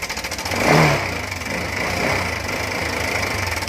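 A Honda Click 125 scooter engine runs close by with a steady, choppy throb that sounds much like helicopter blades beating, a fault sound.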